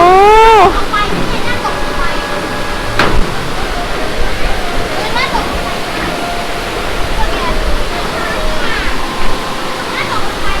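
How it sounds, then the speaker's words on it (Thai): A strongly flowing waterfall at a resort in Nakhon Nayok, Thailand, roars as a dense, constant rush of water close by, with a short voiced exclamation at the start. "โอ้โหน้ำตกไหลแรงมาก"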